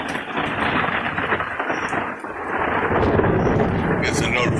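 Heavy rumbling thunder rolls through a severe thunderstorm with cloud-to-ground lightning, a dense low roar with rain and gusting wind that swells louder in the second half and stays close and continuous.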